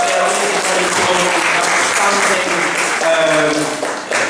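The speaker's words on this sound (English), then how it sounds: "can we give them a round of applause, please?" A comedy gig crowd gives a loud, sustained round of applause for a dementia charity's table, dense clapping filling the room with faint voices underneath.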